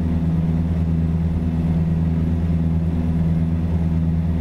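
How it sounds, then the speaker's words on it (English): Heavy truck engine in American Truck Simulator drones loud and close, a deep steady low rumble with a constant throb and no pauses, sounding harsh and persistent. "this truck is exceptionally loud and annoying"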